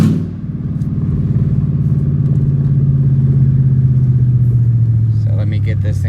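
A Mercedes S430 engine rumbles loudly and steadily through a loud exhaust with a deep, throaty note, holding a low idle-like drone throughout.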